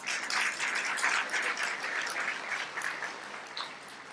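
Applause from an audience at a year-end talk concert of a venture forum, a dense steady clapping crowd sustained throughout, fairly distant and moderate in level, easing slightly toward the end.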